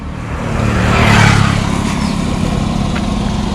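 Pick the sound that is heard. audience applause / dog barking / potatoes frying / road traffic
road traffic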